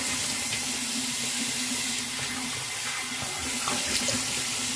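Running water from a tap as someone rinses off after shaving, a steady close splashing stream that continues unbroken and fills the whole stretch.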